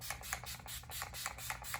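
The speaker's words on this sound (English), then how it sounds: "So we're going to spray a little bit of this on." Urban Decay De-Slick setting spray misted onto a made-up face, a string of short hissing pumps in a steady rhythm, close and alone.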